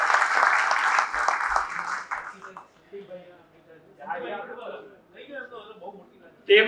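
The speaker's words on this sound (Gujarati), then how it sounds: "તેમને આપણે તાળીઓથી વધાવી લઈએ" An audience at a school lecture event claps in a burst of applause that fades after a couple of seconds, and then a person speaks.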